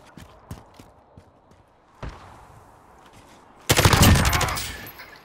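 Gunfire in Call of Duty: Modern Warfare: a few scattered distant shots and thumps, then a loud, dense burst of rapid automatic fire near the end that rings out before fading.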